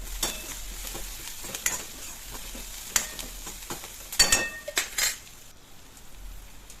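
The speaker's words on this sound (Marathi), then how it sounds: "हिरवी मिरची कांदा तेलात परतून घेऊ आपण" Chopped onion and green chilies frying in oil for a village-style masoor dal and spinach dish, a soft steady sizzle under repeated clinks and scrapes of a spoon stirring against the pan, close and moderately loud, with no talk.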